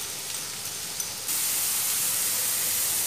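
Ground meat stir-frying in a pan with fried shallots, a steady close hiss of sizzling that jumps louder partway through, with no talking.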